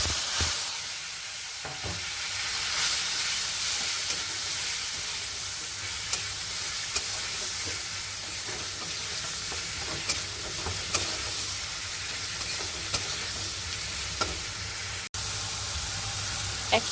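Ground spice paste sizzles and fries steadily in hot oil in a pan, a continuous close hiss with occasional stirring clicks and no talking.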